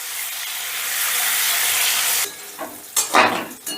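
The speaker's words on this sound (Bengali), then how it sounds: "এবারে গ্যাসের আঁচটা মিডিয়ামে রেখে পনিরগুলোকে আমি বেশ লাল লাল করে ভেজে নেব।" Paneer cubes frying in oil over medium heat, a steady close hiss and sizzle that breaks off midway into a few stirring scrapes and bursts of sputter.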